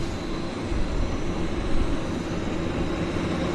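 An Air Canada airliner taxiing at Vancouver airport, heard as a steady, broad low rumble and roar at moderate distance, with no voices.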